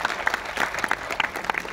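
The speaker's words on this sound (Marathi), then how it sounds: "जरा जोरदार जोरदार टाळ्या होऊ द्या." Applause from the audience at a social unity ceremony, a steady patter of many hands clapping throughout, moderately loud and continuous, with faint crowd murmur underneath.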